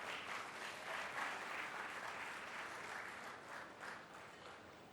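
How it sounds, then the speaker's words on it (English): A crowd at a formal gathering gives a sustained round of applause, a soft, even wash of many hands clapping at a distance, continuing steadily throughout with no talk. "Please, another resounding round of applause for her."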